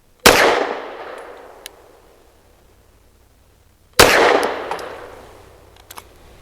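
Two loud, sharp gunshots from an EAA Girsan Witness 2311 match pistol fired on a shooting range, spaced about four seconds apart, each with a long decaying echo and no talking.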